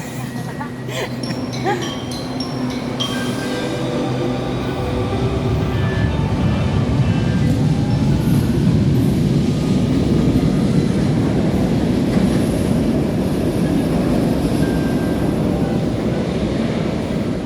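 An LRT-1 light rail train at a station platform, a steady broadband rumble that swells and holds loud as the train runs close by, with a faint voice in the background.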